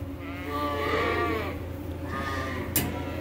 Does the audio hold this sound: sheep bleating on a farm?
yes